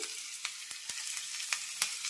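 Green chillies and curry leaves sizzling in hot tempering oil, a quiet steady crackle with small pops scattered throughout, no voices.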